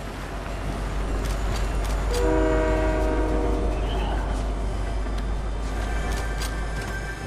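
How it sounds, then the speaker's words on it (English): A train rumbles past in a video game, its horn sounding in a sustained tonal blast midway through over steady rolling rail noise, fairly loud and continuous throughout. "Let's get on the train."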